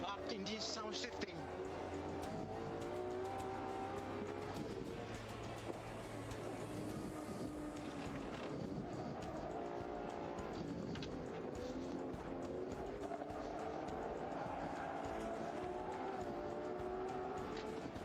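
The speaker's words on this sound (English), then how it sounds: "what great sound revving up in this sound shifting" Ferrari V12 sports car engine at the Fiorano track, revving hard with loud rising and falling pitch sweeps through gear shifts, sustained for the whole stretch, with voices talking over it.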